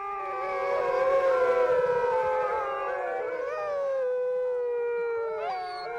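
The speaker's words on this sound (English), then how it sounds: "The wolf-like howl of the wild once echoed loudly across the barrens." Inuit dogs howling together in the Arctic, several long wavering wolf-like howls overlapping in a sustained mournful chorus that rises, holds, and slides in pitch over six seconds.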